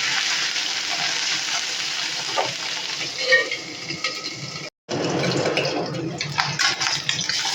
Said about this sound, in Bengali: বাদ বাকি মাছগুলো আমি আবারও ভেজে নেব।